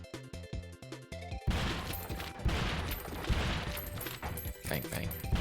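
Video game gunfire in an in-development shooter where enemies get knocked back when hit: dense, loud rapid bursts of shots and impacts, after a brief rhythmic musical opening.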